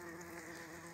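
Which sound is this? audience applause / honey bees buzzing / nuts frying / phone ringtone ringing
honey bees buzzing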